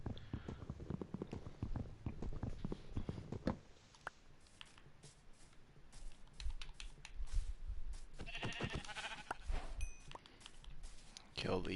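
Sheep bleat in a hardcore Minecraft survival game amid quick keyboard typing and mouse clicking, with several short bleats scattered over the busy clatter.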